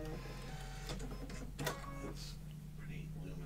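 An embroidery machine stitching out clover designs in neon green thread, a steady close mechanical whir with a low hum and faint rhythmic ticking, while a person talks over it.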